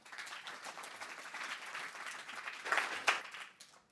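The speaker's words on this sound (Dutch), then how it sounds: "Mag ik een applaus voor kinderanesthesioloog Jurgen de Graaf." An audience gives faint, steady applause for a guest at a studio talk show on pain relief for children. The clapping is soft and continuous for a few seconds, then swells briefly near the end and tapers off.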